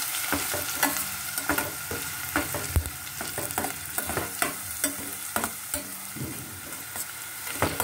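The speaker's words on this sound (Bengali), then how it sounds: "পেঁয়াজটা আগে প্রথমে একটু হালকা করে ভেজে ভেজে নিতে হবে।" Chopped onions fry lightly in hot oil for an egg lababdar curry, a steady close sizzle broken by repeated scraping stirs of the spatula against the pan, with no voices.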